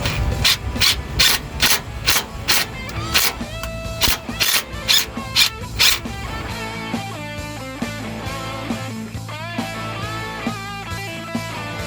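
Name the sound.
tapping out belly pan bolt holes on D6N dozer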